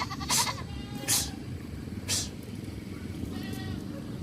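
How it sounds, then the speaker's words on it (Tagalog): Goats bleat on a farm, with several short nasal calls spaced over a few seconds, mid-distance, above a steady rumble of background noise and faint voices. "Papasok lang yung kambing."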